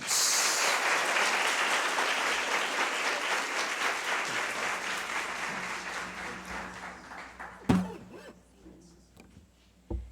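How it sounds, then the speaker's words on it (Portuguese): A congregation applauds during a church service, loud clapping at first that gradually thins and fades, followed by a few scattered knocks near the end. "Aplauda Jesus."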